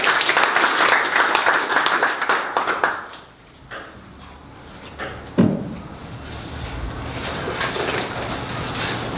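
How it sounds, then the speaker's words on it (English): An audience applauds a speaker being introduced at a talk, a dense crowd clapping for about three seconds before it fades into room noise and a few scattered sounds. "a round of applause please for Duncan Smith"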